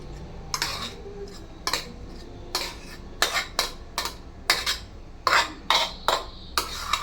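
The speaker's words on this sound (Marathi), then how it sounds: "मी आता ह्या ताटामध्ये त्याला मोकळा करणार आहे" Cooked jeera rice is spread out on a plate with a metal spoon, producing a series of sharp clinks and scrapes of utensil on plate in an irregular rhythm, close and clear.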